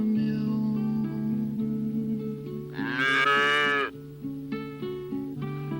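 A dairy cow gives a single long, loud moo that rises and falls over a few seconds, set against a sustained musical background of a children's song.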